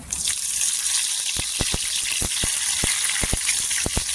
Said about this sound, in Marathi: इथे कढीपत्ता टाकायचा, कढीपत्ता पण छान असा तरतरला पाहिजे